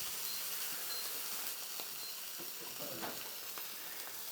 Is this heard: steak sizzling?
yes